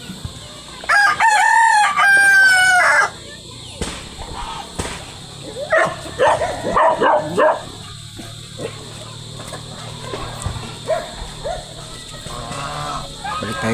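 Chickens and chicks in a Philippine backyard with other pets, a loud rooster crow near the start followed by clucking and scattered bird calls, with barnyard noise throughout.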